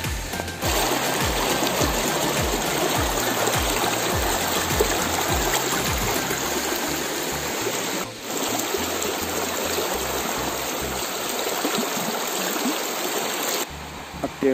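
A fast-flowing stream, swollen after two days of rain, rushes and gurgles steadily up close with no one speaking, the flow dropping briefly near the middle.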